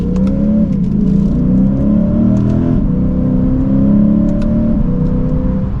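A 2023 Lexus IS 500 F Sport engine revs up loudly and steadily under acceleration, pitch climbing through the gears with a continuous close roar.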